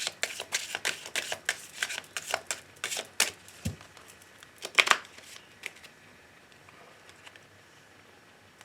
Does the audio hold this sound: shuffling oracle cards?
yes